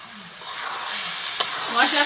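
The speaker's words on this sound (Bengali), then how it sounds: "সঙ্গে চালটা ভালো করে ভেজে নেব।" Washed rice frying with spices in a pan for egg biryani, a steady broad sizzle with a sharp clink of stirring midway, close and fairly loud, with no talking.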